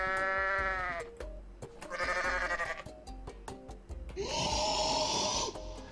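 Goat from the Goat Simulator game bleating loudly up close, three separate wavering cries with short gaps between them, the last one the longest and most strained.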